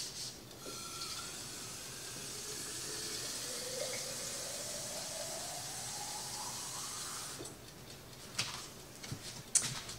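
A kitchen tap runs water into a sink in a steady, close rushing stream for most of the stretch, then gives way to a few clinks and knocks near the end.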